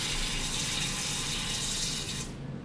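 Warm soapy water pours steadily into a bucket for cleaning sinks and surfaces, a close, continuous rushing gush that cuts off abruptly near the end.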